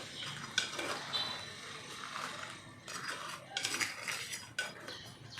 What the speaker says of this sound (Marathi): खेकडी आता आपण वाटणाबरोबर चांगल्यापैकी परतवून घेऊया.